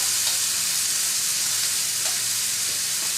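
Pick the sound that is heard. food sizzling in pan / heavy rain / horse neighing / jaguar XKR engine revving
food sizzling in pan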